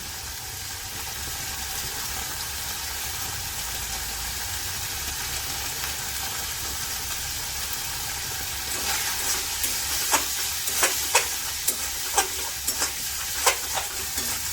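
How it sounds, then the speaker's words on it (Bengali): Fish head sautéing with taro leaves and chili powder in a pan, a steady close sizzle with scraping stirs and sharp utensil clicks toward the end, no voices. "তো মোটামুটি কষানো প্রায় কমপ্লিট"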